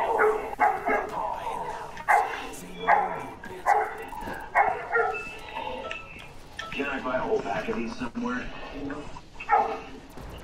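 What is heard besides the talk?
zombie dogs barking in video game zombies dog round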